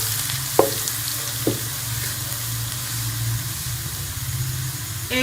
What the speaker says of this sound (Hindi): एक से 2 मिनट हो गए हैं लहसुन को भी भूनते हुए।